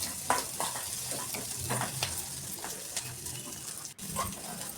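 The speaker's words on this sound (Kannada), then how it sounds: "ಲೋ ಫ್ಲೇಮ್ನಲ್ಲಿ ಚೆನ್ನಾಗಿ ಈರುಳ್ಳಿಯನ್ನು ಹಿಂಗೆ ಎಣ್ಣೆ ಒಳಗೆ ಫ್ರೈ" Onions frying in oil in a pan over a low flame, a close steady crackling sizzle with soft scraping stirs and occasional small pops, continuing without talk.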